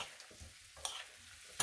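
Frying rice is stirred in a pot with a spoon, soft scraping strokes over a low sizzle, with a couple of sharp clinks.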